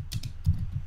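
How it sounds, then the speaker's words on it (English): A computer keyboard is used to enter title text on a PowerPoint slide, giving a brief cluster of a few close, muffled key presses with a slightly heavier thump in the middle. "I'm going to type"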